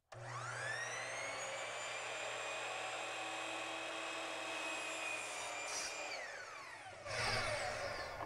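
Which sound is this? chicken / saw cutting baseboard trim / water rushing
saw cutting baseboard trim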